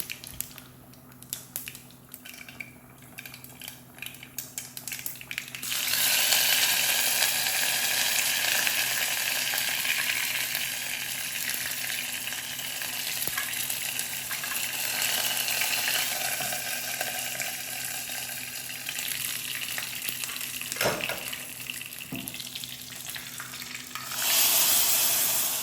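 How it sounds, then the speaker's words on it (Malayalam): Mustard seeds splutter and sizzle in hot coconut oil in a pan, with dried red chillies and garlic going in too. A loud, steady frying hiss starts after a quiet, clattering opening and carries on densely to the end, with no talk. "അതിലേക്ക് വെളിച്ചെണ്ണ ഒഴിച്ച് കൊടുക്കുക, കടുക് പൊട്ടിച്ചെടുക്കുക"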